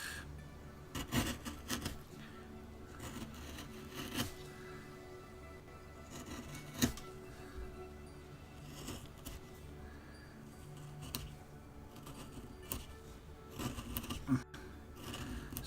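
Hand tools carving away wood from an owl figure, quiet intermittent scraping and rasping strokes with occasional sharper clicks, close and faint, no talking.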